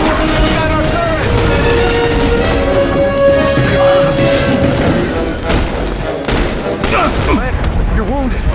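Gun turret firing in the shooter game The Bureau: XCOM, sustained heavy bursts and booming impacts layered with tonal game music and effects, continuous and loud throughout.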